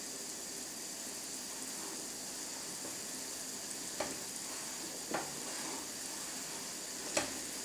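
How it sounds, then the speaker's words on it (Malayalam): Sugar syrup for halwa boils in a pot with a faint, steady bubbling hiss. A few sharp pops or clicks stand out from the simmer, and no one speaks. "ഈ പഞ്ചസാര തിളച്ച് കഴിയുമ്പോൾ നിർത്താം."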